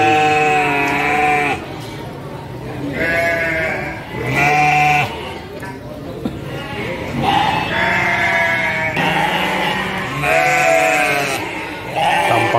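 Sheep at the Andir Bayongbong livestock market bleat repeatedly in long, wavering calls, several animals taking turns close by, with crowd murmur and a voice in the background.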